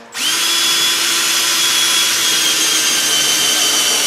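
A power drill runs steadily and loudly, widening bolt holes out to half inch on a Toyota Solara project car, starting abruptly and holding a constant high whine throughout.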